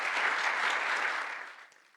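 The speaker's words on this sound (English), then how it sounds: "we can clap for Living Legacy" Audience applause at a talk, a dense wash of many hands clapping at once, steady at first and then fading out over the last half second.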